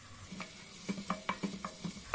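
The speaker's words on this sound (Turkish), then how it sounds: "İçine yarım çay bardağı zeytinyağı bırakıyorum. Ve yemeklik doğradığım bir adet soğanı ekliyorum." Chopped onion hitting half a tea glass of olive oil in a pot over high heat, giving a soft, close sizzle broken by several sharp stirring clicks and taps at an irregular rhythm, with no talking.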